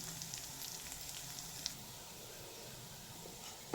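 Soft, steady sizzling of pirandai (adamant creeper) sautéing in a pan, with faint crackles and an occasional pop, no talking.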